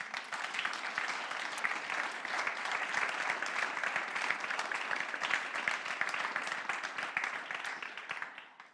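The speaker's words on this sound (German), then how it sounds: "Komm, wir geben Ihnen einen herzlichen Applaus." Audience at a German church family-values talk breaks into warm, sustained applause, a dense wash of clapping from many hands that holds steady for several seconds before tapering off.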